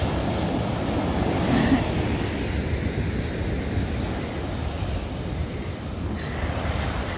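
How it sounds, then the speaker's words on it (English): Surf breaking along an Australian beach used for paddle board and body surfing, a steady broad wash of waves rolling in under open-air wind noise, with no voices. "waves coming."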